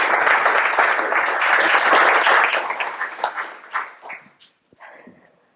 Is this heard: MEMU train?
no